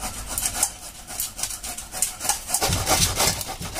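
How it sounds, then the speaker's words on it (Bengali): Peeled ginger rubbed against a grater, a rough, continuous rasping that scrapes back and forth close by for several seconds with no talk. "আদাটা ছুলে নিয়েছি, এবার এটা দিয়ে ঘষে নেব।"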